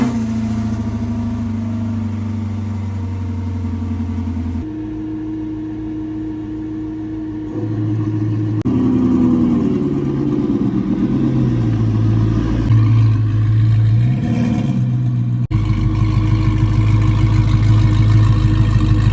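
A mid-mounted V8 car drives on the road, its engine note droning steadily, then rising and falling through several gear changes and revs; the sound is loud and close, with no talking.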